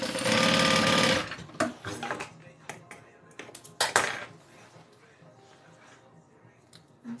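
A sewing machine stitches an orange-fabric Colette bag in a loud, fast, buzzing run of about a second, followed by scattered clicks and taps of handling the fabric.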